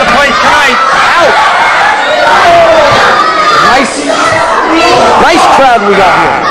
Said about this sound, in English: Nice crowd we got here.